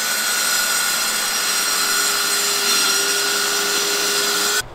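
A power saw cuts a straight marked line through clamped plywood during van cabinet building, a loud steady whining buzz that holds for several seconds and then stops abruptly.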